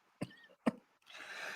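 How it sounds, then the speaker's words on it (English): Two short, sharp coughs from a woman close by, spaced about half a second apart, followed by a stretch of soft breathy hiss. "She made me cough."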